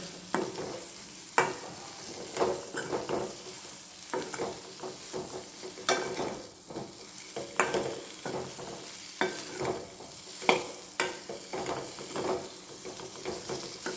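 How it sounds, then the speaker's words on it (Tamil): Meal maker soya chunks fry in a pan over a low flame, with a steady sizzle broken by repeated scraping stir strokes at an irregular rhythm, close and fairly quiet, with no voices. "மீன் மெகரு ஒரு ரெண்டு நிமிஷத்துக்கு நல்லா அப்படியே பொரித்து எடுத்துக்கலாம்"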